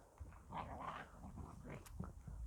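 Dogs scuffling and growling on a walk outdoors, quiet low snarls and whimpers with short yips mixed in, faint and somewhat distant.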